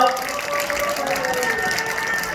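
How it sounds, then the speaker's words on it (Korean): Spectators at an outdoor patriotic rally applaud as a speaker is introduced, a thick, steady roar of clapping with a voice carrying over it. "박수 부탁드리겠습니다."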